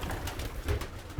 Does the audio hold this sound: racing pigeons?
yes